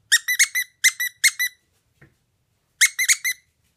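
A squeaky toy squeezed in quick bursts, first a run of five or six squeaks, then a pause with one faint soft noise, then another cluster of four or five sharp squeaks, close and clear with no talking.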